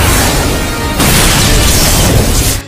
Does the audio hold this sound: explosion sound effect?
yes